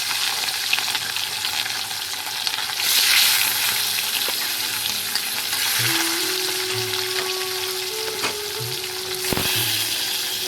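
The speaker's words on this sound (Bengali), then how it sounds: "এখন হচ্ছে মাছগুলোকে ভেজে নেবো" Rohu fish rubbed with salt and turmeric frying in a pan, a steady close sizzle of hot oil running throughout with occasional soft clinks and scrapes, no talk.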